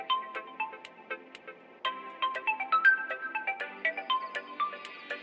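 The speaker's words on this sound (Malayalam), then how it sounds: "ഫോൺ ബെല്ലടിക്കുന്നു." A phone rings with a melodic ringtone, a bright repeating phrase of tones played over and over at moderate, fairly soft volume with no other sound.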